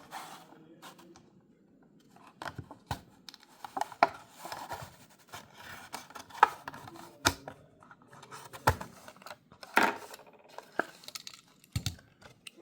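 Hot Wheels '75 Chevy Blazer Custom die-cast package being unboxed, a run of close crinkling, tearing and plastic clicks with sharp taps and snaps scattered irregularly through an otherwise quiet room, no talking.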